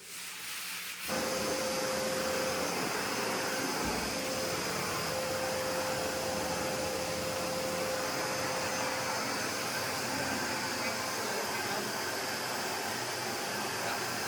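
A household vacuum cleaner with its bag removed starts up after a second of quiet and runs steadily at close range as a loud, broad whooshing roar with a faint whine.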